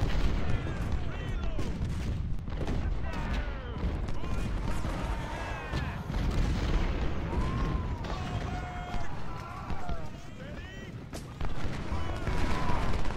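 Cannon and musket volley fire in the Civil War strategy game Ultimate General: Civil War, a dense rumble of distant booms and crackling shots over a running game soundtrack, with a voice talking over it.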